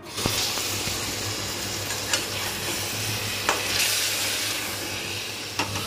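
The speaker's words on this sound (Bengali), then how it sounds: "এবারে আলুগুলোকে প্রায় 10 মিনিট মতো মশলার সাথে ভেজে নেব।" Boiled potatoes fry in spice paste in a pan for egg and potato curry, a constant close sizzle with a handful of stirring knocks against the pan.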